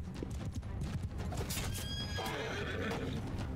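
A horse whinnies sharply over steady hoofbeats and a busy clatter of battle noise in Mount and Blade Bannerlord, the neigh brief and close.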